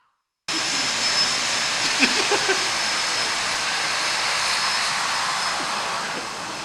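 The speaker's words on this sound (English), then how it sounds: "When do we get to see you get interrupted by engine sounds?" Steady, loud engine roar running unbroken for several seconds after a brief silence, like an aircraft engine heard from close by.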